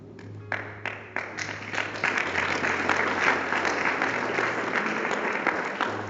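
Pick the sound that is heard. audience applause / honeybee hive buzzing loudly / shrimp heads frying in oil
audience applause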